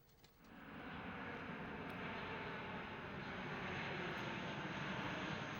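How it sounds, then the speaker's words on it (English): A small propeller plane drones overhead near Goma airport in eastern Congo as a steady, broad engine roar that swells in over the first half second and then holds loud and continuous, with no talk. "Small propeller planes are constantly ferrying minerals from the remote mines to Goma Airport for processing and export."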